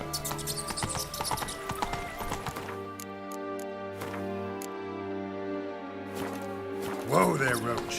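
Roach, a horse in The Witcher 3: Wild Hunt, moving: clip-clop hoofbeats under sustained musical tones, with a brief rising horse sound near the end; no speech.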